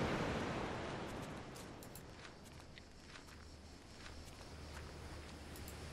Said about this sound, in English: that's the sound of the sea